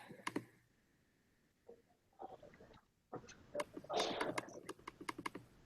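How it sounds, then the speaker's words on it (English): A computer keyboard is typed on in short, quiet, irregular bursts of clicks, with pauses between them and a faint background hum. "while it's opening, I'm typing stuff in"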